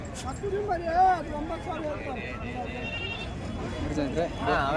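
Bandur and Nati sheep bleat amid a busy crowd at a sheep market in Chandapura, with people talking nearby and a general hubbub of voices throughout.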